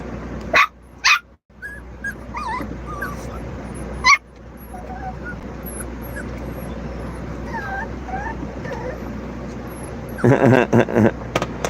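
A dog outdoors gives a few sharp yips and whimpering whines, with a louder burst of barking near the end, while people talk nearby.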